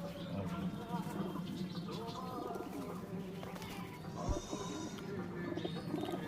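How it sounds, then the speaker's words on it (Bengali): Pigeons cooing inside a loft, soft repeated coos mixed with wing rustles and shuffling, fairly faint and close, with some background voices and handling noise. "বন্ধুরা আরও কত পায়রা আছে দেখুন"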